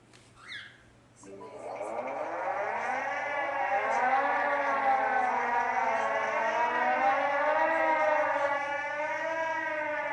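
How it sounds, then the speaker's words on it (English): A loud wailing Ajax home security alarm siren rises and holds a steady, sweeping tone, sounding continuously and fairly close after a brief soft noise at the start. "Alright, so the siren went off."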